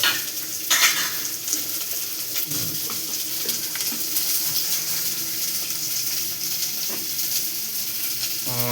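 Hot oil sizzles steadily in a pan while egg curry is being cooked and stirred, a continuous close frying hiss with occasional scraping and clinks of the utensil, no voices.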